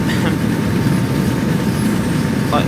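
Simulated DB BR155 electric locomotive hauling Doppelstock double-deck coaches on the Ruhr-Sieg Nord line in Train Sim World 2, giving a steady, loud rolling rumble of wheels on rails with a constant low drone throughout.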